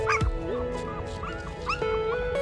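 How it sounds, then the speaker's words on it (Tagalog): Puppies whimper and yip close by, a string of thin high whines and short squeaky cries with small rustles between them. "Ang cute pa naman ng mga aso."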